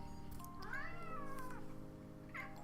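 A domestic cat gives one drawn-out, rising and falling meow, followed shortly by a brief second mew, close by over a low steady background hum.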